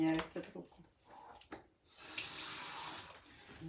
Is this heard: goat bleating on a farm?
no